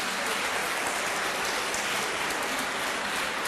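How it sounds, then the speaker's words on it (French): A crowd at a French-language agriculture event applauds in a dense, steady wash of clapping that holds at an even level, with no voices. "sous vos applaudissements"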